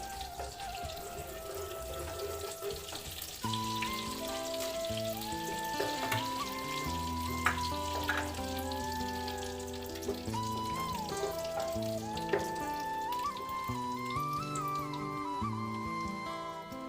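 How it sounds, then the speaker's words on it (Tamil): Cinnamon, cloves, cardamom and bay leaf frying in hot oil give a steady, even sizzle throughout, mixed with background music carrying a melody. "எண்ணெய் காஞ்ச உடனே பட்டை, லவங்கம், ஏலக்காய் இலை, பிரிஞ்சி இலை இதை போட்டு நம்ம ஃப்ரை பண்ணிக்கலாம்."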